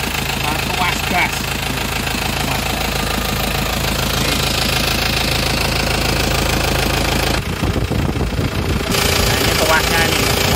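Isuzu Panther New Hi Grade diesel engine idling with a steady, close knocking rumble that runs throughout, with a brief dip in the low end partway through.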